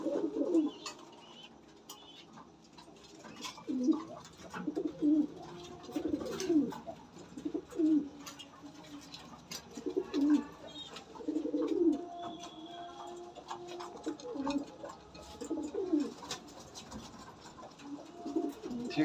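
Pigeons cooing in breeding season, repeated soft throaty coos close by in an irregular rhythm, with occasional faint chirps and a quiet background between calls.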